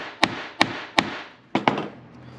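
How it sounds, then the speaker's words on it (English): A smooth face hammer strikes a smooth piece of metal during an axe restoration, five sharp whacks: three evenly spaced, then a quick pair, each ringing briefly before fading. "Then I got just a smooth piece of metal and a smooth face hammer. You'll just kind of whack those right together."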